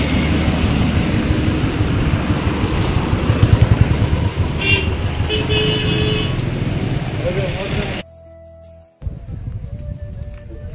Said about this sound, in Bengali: বাইকের স্পিড 40, 50, 60 এরকম একদম ক্রস করে যাচ্ছে